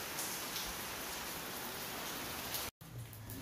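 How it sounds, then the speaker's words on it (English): Heavy rain pours outside during a power outage, a dense, continuous hiss of downpour that stays steady throughout, broken only by one abrupt momentary cutout. "it is raining so bad and the power is off too"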